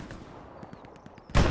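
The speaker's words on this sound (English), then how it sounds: "Doing some cannon shots here." A tank cannon in a video game tank battle fires one sudden, heavy blast that fills the sound, preceded by a few faint mechanical clicks and ticks.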